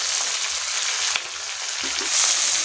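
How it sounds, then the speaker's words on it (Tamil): Onions with curry leaves, green chilli, chana dal and cumin sautéing in hot oil for wheat rava upma, a steady close sizzle and crackle throughout, with a small clink of a spoon against the pan. "வெங்காயம் நல்லா இந்த மாதிரி வதங்கினதுக்கப்புறமா"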